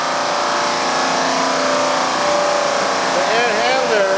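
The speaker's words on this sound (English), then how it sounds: "Chiller's up and running. That's a good sound." A loud, steady mechanical hum and whir of a large machine running continuously, with faint whistling tones rising near the end.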